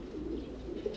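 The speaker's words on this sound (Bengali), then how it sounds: "এই একটা কবুতর যেটা আমার মাই কার্লোস ব্ল্যাক, যেটা আমার নিজের লাইন" A black racer pigeon coos softly and close by in a low, steady rumbling murmur lasting about a second.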